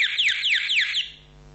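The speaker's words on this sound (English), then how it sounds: "the moment the material gets wet, it will trigger the alarm" A Malem bedwetting alarm sounds with a rapid series of bright, sweeping electronic chirps repeating several times in quick succession, then cuts off and leaves near silence.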